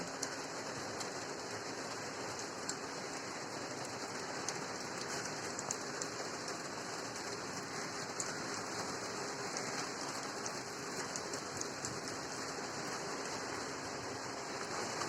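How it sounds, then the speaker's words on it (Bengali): Steady, even hiss of light rain falling throughout in Chattogram, Bangladesh, with a faint pattering texture and no voices. "তো দেখেন বৃষ্টি কিন্তু এখনও হচ্ছে হালকা বৃষ্টি"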